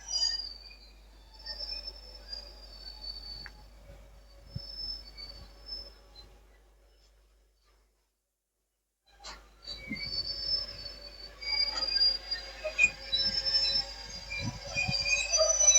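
A Class 90 freight train slowing to a stop at a station platform, its wheels giving high, sustained squeals that grow louder and denser toward the end after a brief quiet gap, with faint birdsong earlier.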